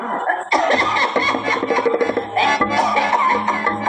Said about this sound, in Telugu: ఒకసారి దగ్గవే